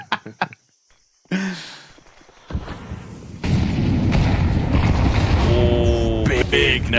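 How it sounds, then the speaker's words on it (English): A grenade goes off in a Counter-Strike 2 match at an ESL Pro League game: faint footsteps and mechanical clicks, then a heavy, booming blast that swells into a loud, sustained rumble with faint voices underneath. "big nade. Yeah, absolutely massive."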